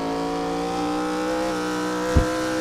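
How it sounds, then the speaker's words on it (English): A steady race car engine in iRacing drones with many layered harmonics, its pitch wavering slightly as the RPMs fluctuate, and a short low thump near the end. "You hear it, the RPMs fluctuate."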